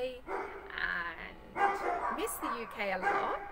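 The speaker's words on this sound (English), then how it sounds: "sorry about the dogs" Dogs bark and yip repeatedly in the background of a home in Rome while a person keeps talking over them.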